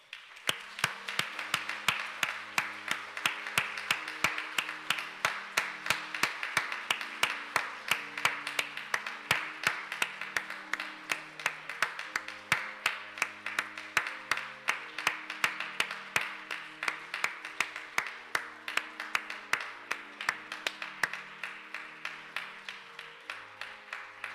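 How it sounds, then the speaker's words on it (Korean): A church congregation applauds to celebrate three children just baptized at a Sunday morning service, with dense, steady clapping from many hands that holds for the whole stretch at an even level, under soft organ-like sustained tones. "우리 인사할 때 마음을 담아서 축하의 박수를 보내주시기 바랍니다."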